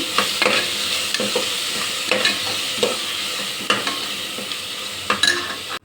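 Coriander powder stirred into a sizzling fried mixture in a pan, a steady close frying hiss broken by repeated spoon scrapes and knocks against the metal, with no voices.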